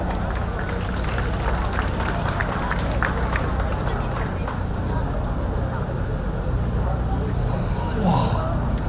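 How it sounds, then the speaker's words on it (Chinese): An audience applauds at an evening rally marking the anniversary of the 318 Taiwan Legislative Yuan occupation, a dense and steady wash of clapping that holds evenly throughout, with crowd noise mixed in. "我们是掌声欢迎这组的团队"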